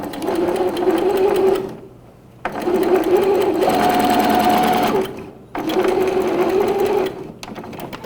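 A sewing machine stitches a backstitch on a bib, running in loud, steady buzzing bursts of a couple of seconds each with short pauses between them, close up.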